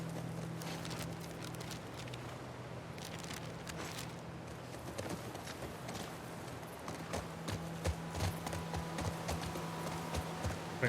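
Horse hooves clip-clop at a walking pace in the video game The Last of Us Part II, a steady run of soft, close hoof beats over an ambient game background, with louder thuds toward the end.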